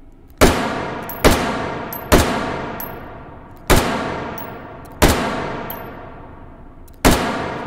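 Six separate gunshots from a trigger-pulled firearm in the VR shooter H3VR, loud and sharp, each followed by a long ringing decay, spaced roughly a second apart with no talking.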